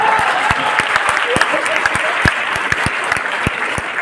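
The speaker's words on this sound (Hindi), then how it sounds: "देखो खुद के लिए कैसे तालियां बजा रही है" A hall full of people claps together, sharp individual hand claps standing out over a loud, sustained wash of applause, with a speaker's voice mixed in.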